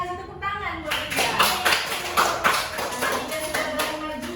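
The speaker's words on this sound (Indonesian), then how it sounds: "tepuk tangan buat Dinda" Classroom of students clapping for a classmate during a chemistry lesson, a brisk burst of hand claps that builds after a brief pause and carries on with distinct individual slaps, a voice briefly heard among them.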